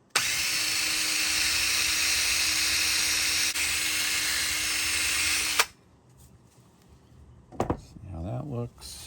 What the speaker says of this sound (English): with a higher RPM on the drill